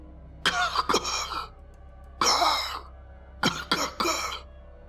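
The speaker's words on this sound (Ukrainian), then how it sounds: "потім пауза, і знову серія кашлів" A person coughs in several harsh bursts on a suburban electric train: a quick pair, a pause, one longer cough, another pause, then a rapid cluster, close and loud.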